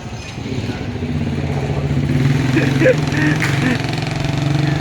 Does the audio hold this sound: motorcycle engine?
yes